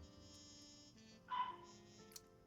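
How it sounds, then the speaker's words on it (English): A dog barks once or twice in the background, faint and distant, with a low steady room hum around it and no talking. "You said, can you hear my dog? That's my dog."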